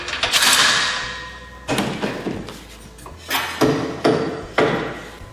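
Fixings being loosened on telescopic tribune seating produce a series of sharp metallic clanks and thuds, about six distinct knocks with ringing tails over several seconds, close and loud, with no voices.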